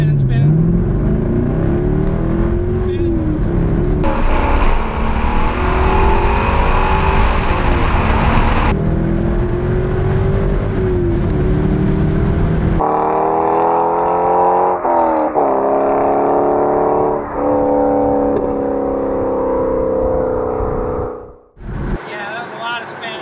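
A Corvette launches inside a garage, its engine loud and close as it revs and roars with rising and falling pitch. Tire spin is not clearly set apart from the engine, and the sound cuts off abruptly near the end.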